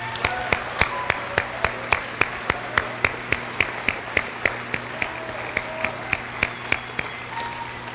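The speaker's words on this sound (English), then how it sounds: "Let's give them another round of applause" Audience applause at a military academy speaking competition, a fairly faint and evenly paced run of claps that continues without a break.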